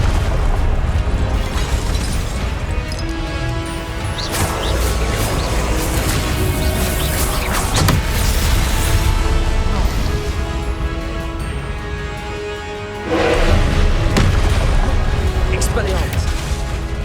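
Blasting spells go off in repeated explosions and booms during Hogwarts Legacy combat. The bursts are dense and loud over a constant rumbling game soundscape, with spell callouts spoken throughout.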